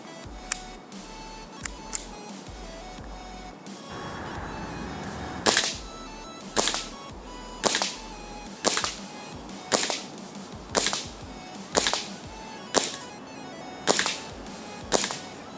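A Black Ops Ignite 1911 airsoft pistol fires outdoors in a regular sequence of about ten sharp, snappy shots roughly one second apart, each a crisp crack close by, following a few lighter clicks.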